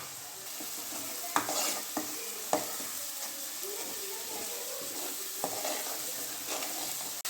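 Masala fries in a pan for a home-style chunvadi curry, a soft steady sizzle with occasional spatula clinks and scrapes as it is stirred, fairly quiet and without talk.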